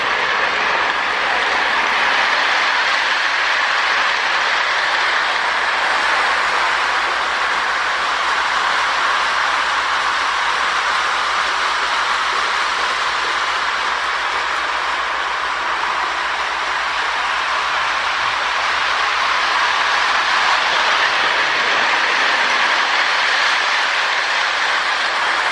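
A Marx 21 O-scale toy diesel locomotive with traction tires hauls Super Chief cars around a layout, giving a steady, continuous rolling whir and rail rumble at an even level throughout, with no voices.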